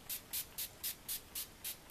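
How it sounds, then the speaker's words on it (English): LA Girl Pro setting spray misted onto a face, eight short evenly spaced hissing spritzes in a quick steady rhythm, close and soft, with no talking. "I'm going to spray my face with that LA Girl Pro again."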